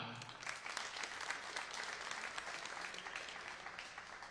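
An audience applauds graduating seniors of a class of 2021 senior basketball team, with steady, dense clapping from a crowd in a gym that carries on throughout.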